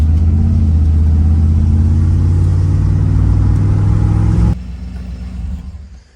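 A car engine revs hard and accelerates with a loud rumbling roar, tires peeling out on gravel, then cuts to a quieter fading drive-away.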